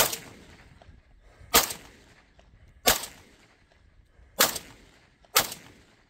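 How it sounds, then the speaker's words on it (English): A KUSR KR103 AK rifle fires five single shots in a slow, uneven series, each a sharp loud crack outdoors with a short decay and a quiet gap before the next. "very first AK, KUSR, KR103, his first shots with it."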